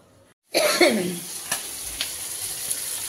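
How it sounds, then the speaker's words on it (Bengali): Fish frying in a pan for a home-cooked Bengali meal, a steady sizzle that starts abruptly after a short silence, with a few sharp crackles and pops over the hiss. "মাছটা ভেজে নিচ্ছি।"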